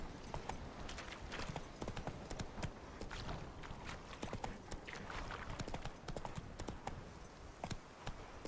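Roach, the horse in The Witcher 3, trots along with a steady, fairly quiet rhythm of clip-clopping hoofbeats over soft ground.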